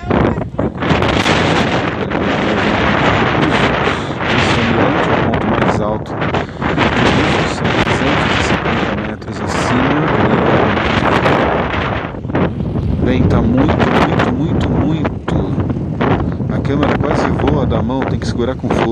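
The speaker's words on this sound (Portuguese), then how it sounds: "É um dia de muito vento." Strong wind buffets the microphone on a windy day at Búzios beach, a loud continuous roar with gusting rushes throughout, and a person talks over it.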